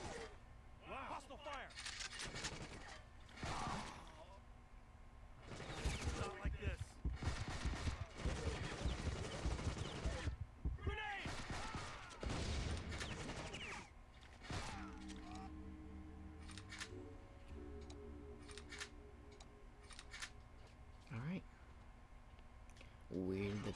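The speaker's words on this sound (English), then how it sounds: "Hostile fire" Gunfire in the video game CounterSpy, sharp bursts of shots and clicking mechanisms scattered through the scene, mixed with someone talking over the game audio.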